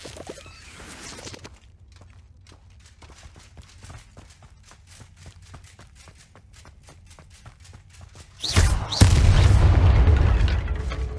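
Confringo fire spell blast in the Hogwarts Legacy video game: a sudden loud fiery burst and sustained roar near the end, after a stretch of quiet rhythmic footsteps and light clicks.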